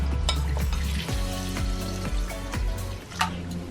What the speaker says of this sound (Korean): 이렇게 물을 부어서 한번 헹궈서 해야 되겠죠?